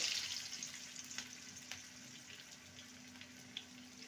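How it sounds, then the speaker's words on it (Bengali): Bread snacks frying in refined oil in a frying pan over a medium flame, a faint, steady hiss of bubbling oil with a few soft pops and no talking. "মিডিয়াম ফ্লেমে এগুলোকে ভেজে নিতে হবে"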